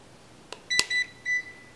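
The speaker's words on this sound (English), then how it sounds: "You should hear one beep." A ZIIP beauty device gives a short power-on beep after a soft click, then a few more brief electronic tones, close and clear over a quiet background.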